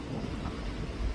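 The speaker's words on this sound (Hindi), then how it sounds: "हवा इस टाइम में बड़ी ज़बरदस्त, बड़ी प्यारी हवा चल रही है" Wind blowing at a lakeside, a steady rushing roar buffeting the microphone with low rumbling gusts, constant and close throughout, no voices.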